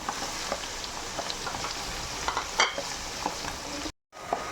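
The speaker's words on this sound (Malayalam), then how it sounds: "വെളുത്തുള്ളി ഇഞ്ചി മൂത്തോണ്ടിരിക്കുന്നു." Garlic and ginger frying in hot oil, a continuous close crackling sizzle with light stirring scrapes, ending in a brief cut to silence and then the sizzle resuming, while preparing a dried-fish pickle.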